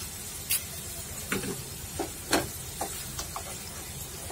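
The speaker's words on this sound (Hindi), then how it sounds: "अब इसमें हम 1 चम्मच अदरक लहसुन का पेस्ट डालेंगे।" Ginger garlic paste fries in hot oil in a pan during prawn gravy cooking, giving a steady sizzle broken by sporadic scraping stir clicks. The sound is fairly close, with no voices.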